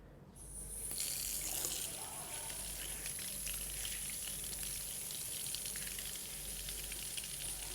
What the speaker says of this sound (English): I'm just going to turn the water down a bit so that we don't end up with it out the sink